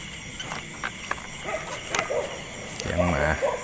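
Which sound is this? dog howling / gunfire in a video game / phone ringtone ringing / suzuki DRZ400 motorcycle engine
dog howling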